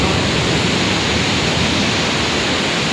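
Water gushes steadily into a train station interior, a loud, dense broadband rush like a waterfall pouring without pause across the wet concrete floor.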